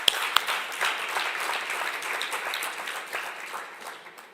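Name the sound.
audience applause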